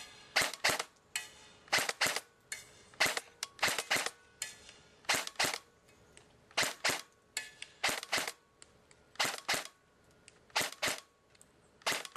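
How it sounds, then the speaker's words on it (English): An HSA Custom SD6 airsoft gun fires outdoors on semi-automatic, with sharp, close pops in quick pairs and small bursts spaced about a second apart and nothing else in between. "Here we're outside, and we're going to be doing some shooting."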